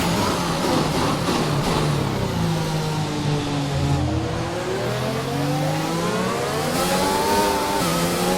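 A race car engine revs hard on the final lap of a race, rising and falling in pitch through sweeping gear changes, loud and close throughout with no voices.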